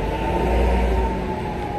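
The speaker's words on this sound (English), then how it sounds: "this bus keeps on making some bad noise." A city bus drones with a loud, steady low rumble and a constant mechanical hum, a persistent bad noise filling the cabin with no talk.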